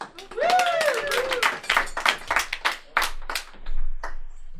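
An audience at a live comedy show claps in a scattered burst of distinct hand claps, close and uneven, dying away after a few seconds, with a voice and a shout over the start.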